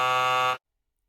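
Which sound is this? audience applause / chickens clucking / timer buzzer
timer buzzer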